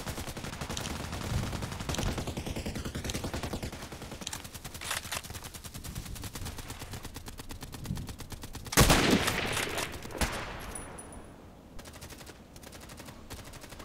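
Gunfire in a shooter video game: dense, fast bursts of shots run through the clip, with a louder, sharper volley near the middle before the firing thins toward the end.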